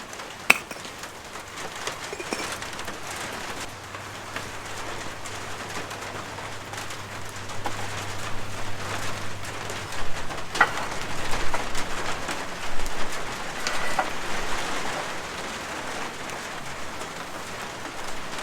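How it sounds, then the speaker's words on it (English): Steady rain patters down with gusting wind, a continuous wash of noise lasting throughout, while a bird coos faintly in the background. "here comes the rain and the wind"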